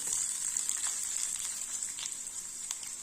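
Chopped shallots frying in hot oil with popped mustard seeds and urad dal, a steady bright sizzle and crackle up close with faint stirring, no voices.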